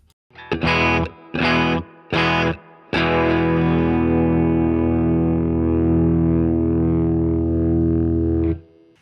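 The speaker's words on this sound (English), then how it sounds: "Now let's turn on the compressor." Electric guitar through a compressor on a Fender Tone Master Pro plays three short chopped chords, then a long sustained chord that rings evenly with a squeezed, even-level tone before cutting off.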